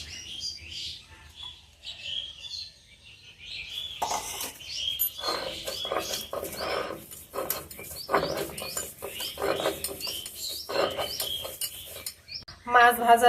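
Cooked potatoes being mashed by hand for taki fish bhorta, with soft squelching and scraping strokes in irregular bursts, close and fairly quiet, with no talk over them.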